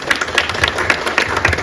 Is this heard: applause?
yes